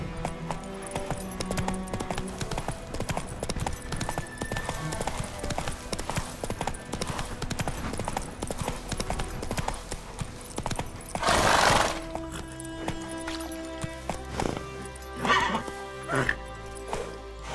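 A horse gallops in the video game The Witcher 3, with rapid, continuous hoofbeats close by, a burst of neighing partway through, and voices calling out over the riding.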